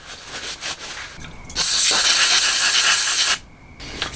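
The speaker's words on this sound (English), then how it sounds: "Now I'm going to clean this off with a little bit of brake cleaner" Brake cleaner sprays onto a coilover part during a Tacoma rebuild: one loud, close, steady hiss lasting about two seconds, with quiet workshop handling noises before and after.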